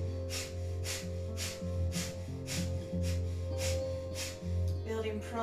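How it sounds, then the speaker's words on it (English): Rapid nasal panting of kundalini yoga breath of fire: a steady run of quick, rhythmic breath bursts close to the microphone over a sustained low musical drone, with no talking. "begin breath of fire here. 3 minutes panting like a dog through the nose."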